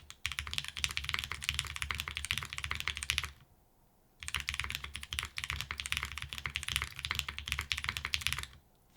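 Steady, crisp typing on the Juna keyboard, tried both with and without an extra desk pad: dense clacking keystrokes, close and loud, breaking off for about a second midway, then resuming with no talk.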